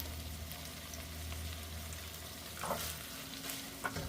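Minced meat for a taco salad sizzles steadily in a hot pan, with a brief louder hiss and spatter as a splash of water from a kettle hits it near the end.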